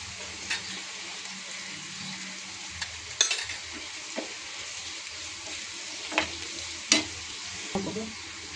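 Onion and masala spices fry in a pan for Maharashtrian potato bhaji, a soft continuous sizzle broken by several stirring scrapes and clinks from a spoon.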